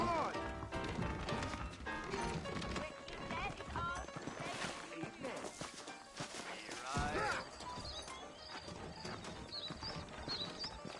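Saddled horses walking out of a New Orleans town in Red Dead Redemption, steady clip-clopping hooves over game music and voices, with a brief whinny.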